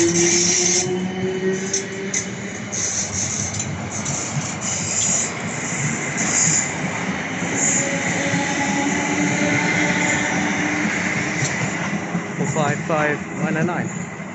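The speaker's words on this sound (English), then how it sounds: "South Western Rail Class 455 arriving and departing Clapham Junction for Woking from London Waterloo." A South Western Rail Class 455 electric train rolls into Clapham Junction, a steady close rumble and hiss of wheels on track with light brake squeal near the end, and a voice heard over the noise.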